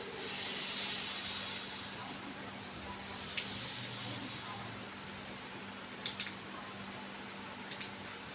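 Potatoes frying in oil with mustard seeds and curry leaves: a steady broad hiss of oil runs throughout, with a few faint clicks and light taps of a utensil near the end.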